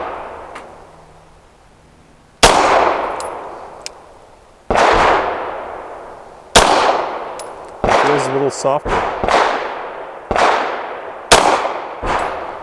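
Handgun shots from a Tisas 1911 firing Federal Syntec PCC 130 grain at an outdoor range: sharp, loud reports, first spaced out and then in a quicker string of about eight, each with a short decay, with brief talk between.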